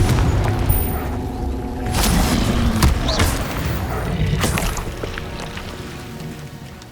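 Confringo blast spell explosions in the Hogwarts Legacy video game, several heavy booms and whooshing impacts in quick succession over rumbling battle noise, loud and close.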